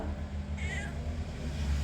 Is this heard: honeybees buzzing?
no